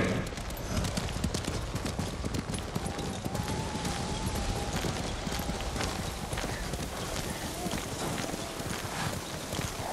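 Horse hooves clip-clopping on a ride through snowy weather in the video game Ghost of Tsushima, a steady, close rhythmic trot over wind and ambient noise, with a faint voice partway through.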